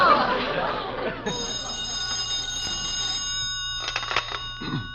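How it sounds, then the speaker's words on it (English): A telephone bell rings as a sound effect in a vintage 1940s radio comedy broadcast, a bright sustained electric ring with a second burst of ringing and some crowd chatter around it. "Bell phone rings."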